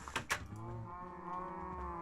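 Cows mooing in Minecraft, a long drawn-out low moo rising and holding steady after a couple of short sharp sounds at the start, moderately loud with no talk.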